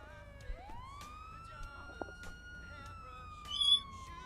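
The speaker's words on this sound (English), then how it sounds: "You mind shutting that siren off?" A wailing emergency siren in a GTA roleplay game, rising then holding a long sweeping tone with harmonics, clear and steady, a brief louder burst near the end, no talk.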